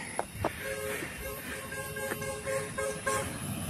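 Car horn tooting on a mountain road up Gunung Jerai, a string of short honks of varying length, moderately near, over faint traffic and background noise.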